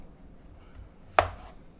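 A kitchen knife strikes down once through the end of a cucumber onto a cutting board, a single sharp close chop in an otherwise quiet room.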